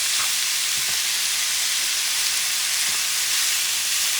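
Seasoned meat for picadillo frying in oil in a pan, with a loud continuous sizzle close up and a few faint knocks underneath, with no voices.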